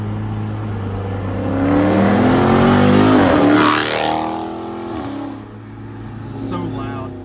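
A 2018 Dodge Charger Scat Pack with a mid muffler delete revs its exhaust in a loud, raspy swell that rises, peaks and falls back to a rumbling idle, followed by a second smaller rev near the end.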